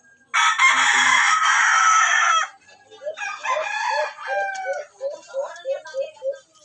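Rooster of a bantam chicken flock crowing loudly and close for about two seconds, followed by a run of shorter clucks and calls from the hens in a steady, choppy rhythm.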